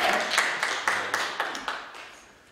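Short burst of applause for a pastor at a Korean church ceremony and signing event, a crowd of claps rising quickly and tapering off over a couple of seconds, fairly close and alone.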